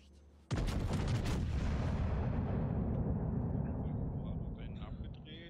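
A warship fires a full broadside in World of Warships, a sudden loud boom that rolls into a long rumbling roar and fades slowly over several seconds, with someone talking faintly underneath.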